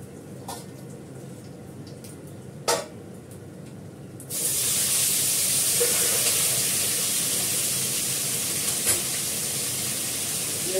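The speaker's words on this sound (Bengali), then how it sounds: "ভেন্ডিটা ভাজা করে নিই।" Okra frying in hot oil with cumin and asafoetida: after a few quiet seconds with a faint knock, a loud, steady, close sizzling hiss starts and carries on to the end.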